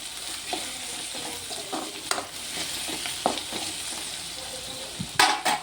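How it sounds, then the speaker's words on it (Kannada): Cauliflower and rice ingredients for street-style gobi rice stir-fry with soy sauce in a hot pan, a loud, close sizzle broken by repeated scraping strokes of a spatula, with a sharp clatter at the end. "ಫ್ರೈ ಮಾಡ್ಕೊಳ್ಳಿ ಎಲ್ಲನೂ."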